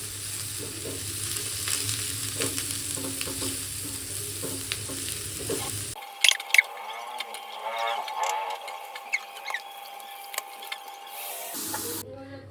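Masoor dal cooking in a pot with garlic, green chilli, onion and dried chilli, stirred: a soft bubbling simmer and sizzle with occasional scraping clinks of a spoon, moderately quiet, with a background hum that drops out midway.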